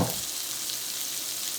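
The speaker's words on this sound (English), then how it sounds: "we're just going to let this shrimp cook a minute or so on this side" Shrimp frying in canola oil in a pan, a steady, close, dense sizzle that holds evenly throughout with no talk.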